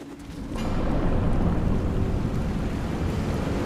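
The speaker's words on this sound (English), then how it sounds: "Suddenly the water rises" Rising water rushing in the Darksiders 2 video game, a loud, steady broadband roar that surges in after a brief quieter start and holds full and continuous to the end.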